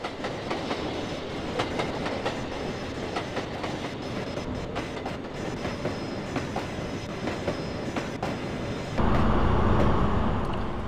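A train running on rails in the Trainz 2 railway simulator, with a steady rolling rumble and clickety-clack throughout, swelling louder and fuller near the end with no talk over it.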